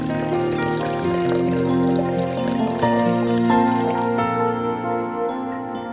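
About one and a half cups of water pour into a lassi mix in a kitchen, a steady ringing, rising fill tone lasting several seconds, continuous and fairly close, with background music alongside.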